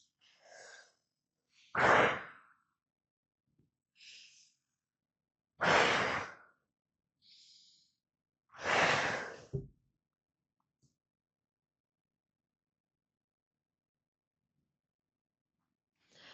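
Slow, deep breaths in and out during a relaxation exercise, each long exhale spaced apart by quiet pauses, close and clear with no talking.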